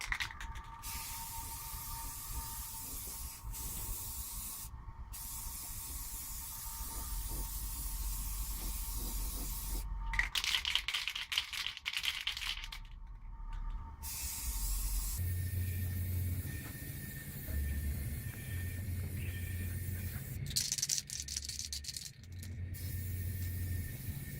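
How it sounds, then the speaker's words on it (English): An aerosol can sprays primer as a second coat during an LA105 repair, giving a long, hissing rush that pauses and restarts several times over about twenty-five seconds, with a few louder close bursts. "spray primer in that area for the second coat"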